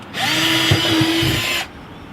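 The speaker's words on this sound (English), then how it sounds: "now we're just going to pre-drill these" Power drill pre-drilling holes in the plastic of a hose reel mount, one steady high whine of about a second and a half, close and loud, with no talk.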